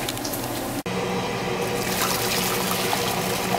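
Water from cooked spaghetti pours out of a pot while it is drained, a continuous, close splashing rush with a brief gap near the start.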